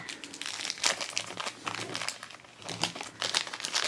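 Crinkly plastic packaging of a Wacky Packages Minis Series 2 blind bag rustles and crackles steadily as it is handled and opened up close, with no talking over it.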